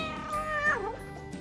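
A cartoon cat lets out a single drawn-out meow that bends upward then falls, clear and close, with a brief bright tone underneath.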